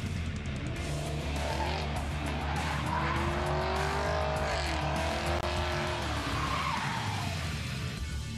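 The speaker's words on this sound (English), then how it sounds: "slows down to 30 and proceeds to lurch his way through the slalom" Car lurching through a slalom on a driving course, engine revving up and down with tire squeal and skidding, steady and fairly close with no talking.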